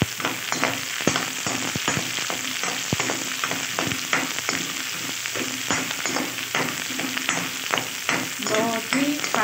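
Green chillies sizzle loudly in a pan of frying onion greens and soybean, a steady close crackle broken by frequent scraping and clattering stirs, with no talking.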